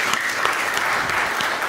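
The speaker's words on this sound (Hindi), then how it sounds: "आप सब एक बार खुद के लिए तालियां बजा दीजिए।" An audience at a live Hindi comedy show applauds itself, dense and loud sustained clapping from many people filling the whole moment with no speech.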